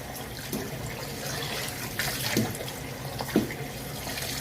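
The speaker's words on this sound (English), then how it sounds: "So while I am washing the pork, I am still feeling to see if there's any bones in here." Running water flows steadily from a tap while raw pork is washed by hand in a bowl, a soft continuous splash with a few faint handling knocks.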